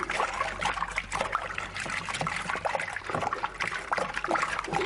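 Lager beer kit extract pours steadily into a fermenter, a continuous splashing trickle with no talking.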